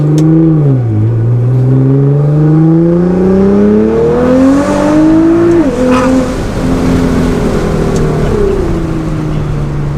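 A powerful Nissan GT-R engine revs loudly and continuously, pitch climbing and dropping through several swells, close and unbroken for the whole stretch.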